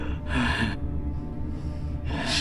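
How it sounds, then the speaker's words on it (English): A female character in The Expanse video game breathes in heavy, ragged gasps, two loud bursts of breath separated by a strained pause, close and without speech. "She's doing a lot of aggressive breathing for somebody to be low on"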